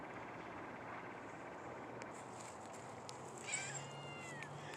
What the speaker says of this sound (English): not only do we have quite a few cats out here this morning for our morning feeding